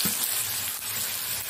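Onion frying in hot oil with cumin and ginger-garlic paste, a steady close sizzle with soft stirring scrapes, heard alone without voices.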